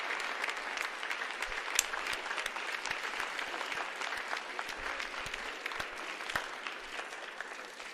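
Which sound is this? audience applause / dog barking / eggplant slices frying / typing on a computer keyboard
audience applause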